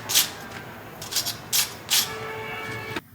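Fried crispy cheesy chicken triangles are crunched, giving several sharp, close crackling bites and snaps spaced across a few seconds, with no talking.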